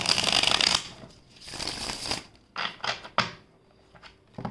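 Tarot cards are shuffled by hand at close range, with dense papery riffling bursts followed by shorter scattered flicks and taps, fairly quiet with no talking.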